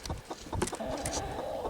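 Broody hen and other chickens clucking close by, a few soft irregular clucks and low murmurs over a steady background hum.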